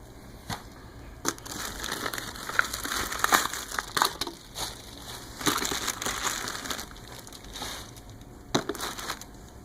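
Ice packs are handled inside a meal kit delivery box, making irregular crinkling and crunching plastic noises in close, moderate bursts.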